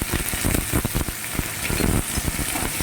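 Potatoes seasoned with salt and turmeric fry in a pan, giving a steady loud sizzle with scattered scraping and clinking strokes from stirring throughout.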